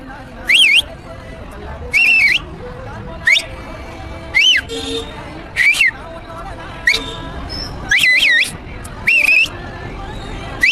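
Sharp rising whistles, either human whistling or a whistle, ring out again and again at irregular intervals over a steady babble of background voices and music in a Tamil troll reel.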